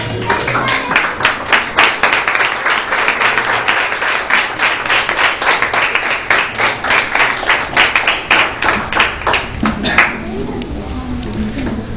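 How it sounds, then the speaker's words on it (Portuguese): A church congregation claps steadily for several seconds, a dense patter of applause that stops abruptly near the end, leaving quieter room sound. "dando uma linda salva de palmas ao Senhor"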